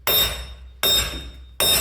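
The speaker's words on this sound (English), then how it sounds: "using my air hammer with a hammer bit" Air hammer fitted with a hammer bit pounding on an axle puller during front suspension work on a 1994 Chevy K1500, three loud sustained metallic bursts in quick succession, close up.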